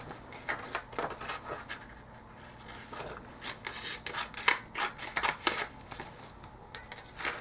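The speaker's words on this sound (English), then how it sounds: "Let's cut out this bigger picture." Scissors cutting a large picture out of a paper calendar for dollhouse wall art, a series of soft, uneven snips and paper rustles heard up close and fairly quiet, without speech.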